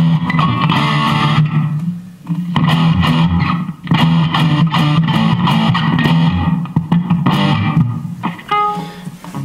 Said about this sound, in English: And you have small room reverb.